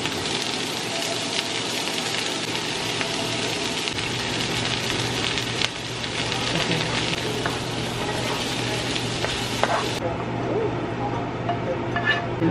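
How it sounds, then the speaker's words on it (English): Peppers sauté in a home kitchen pan, giving a loud, continuous sizzle with faint stirring and clinks, and a person talks over the frying at times. "so we sauteing the pepper"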